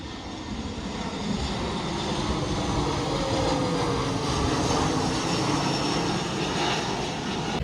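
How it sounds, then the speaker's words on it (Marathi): A low-flying airplane's engine roars loudly and steadily overhead near a seaside bridge at an amusement park on Phu Quoc, Vietnam, a dense broadband drone that fills the whole clip without fading. "कसलं जवळून जातोय विमान."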